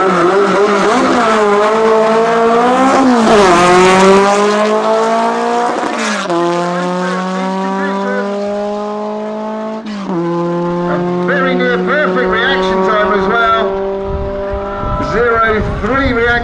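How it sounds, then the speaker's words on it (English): Outlaw flat-four Volkswagen drag race car at a European Bug-In, its loud engine screaming up through the gears in rising sweeps with sharp shift breaks, close and powerful for the whole run. "Strong sounding motor and very sweetly tuned."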